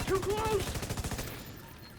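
A flame grenade goes off in a video game as a loud, close burst of rapid crackling pops with a brief tonal whine over it, fading out within about a second.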